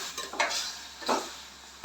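A metal lid clanks onto a cooking pot of stuffed bitter gourd after hot water is added, with two brief close clatters over a faint background hiss.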